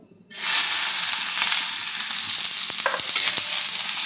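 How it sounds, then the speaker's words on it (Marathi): Chopped onion hitting a little hot oil on a heated tava sizzles loudly the moment it drops in, then keeps up a steady, close frying hiss with faint stirring scrapes as it cooks. "आपण पहिले मसाला फ्राय करून घेऊया. थोडंसं तेल टाकायचं आहे, त्यात आपल्याला कांदा टाकायचा आहे"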